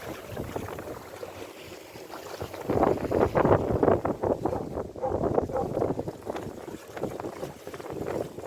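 Steady wind roars across the microphone while water rushes past a moving sailboat on the open sea, swelling louder midway, with no voices.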